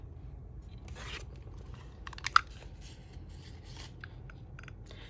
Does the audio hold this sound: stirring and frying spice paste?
no